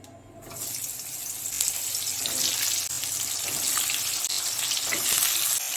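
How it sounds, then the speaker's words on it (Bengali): Pointed gourd (potol) hits hot oil left from frying fish, bursting into a loud, steady sizzle that holds throughout after a brief quiet start. "এবার ওই তেলের মধ্যে পটলগুলোকে ভেজে নেব।"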